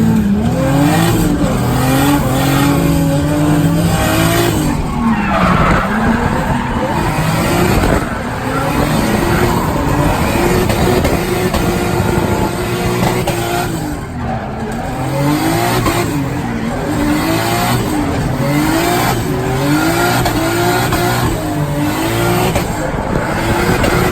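A 1JZ-engined Nissan 240SX drifting, its engine droning loud and steady with rising and falling revs and tire squeal blended in, sustained close for the whole stretch with little letup.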